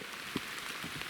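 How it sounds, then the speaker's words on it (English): Steady rain patters densely on surfaces and gear outdoors during a public-land turkey hunt in West Virginia, a close, continuous hiss with scattered heavier drops and no talk. "I got so much rain on my viewfinder"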